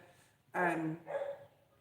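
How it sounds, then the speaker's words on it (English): A dog indoors gives two quick barks in a row, the first louder and fuller, the second softer, heard slightly distant in an otherwise quiet room. "sorry about the dog"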